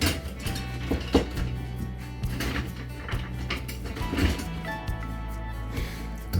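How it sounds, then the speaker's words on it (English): Apple cinnamon cake batter being mixed in a bowl, with steady clinking and scraping of a utensil against the dish, moderately loud and close, with no talk. "So you want to mix it till you don't get any lumps."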